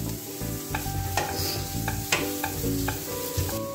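Cooked onion with ginger, garlic and green chili sautés in a pan, a constant close sizzle broken by repeated scraping strokes of a spoon.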